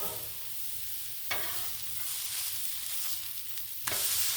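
Burgers fry on a Blackstone griddle with a steady, bright sizzle, broken by two sharp scraping flips of a spatula against the flat-top.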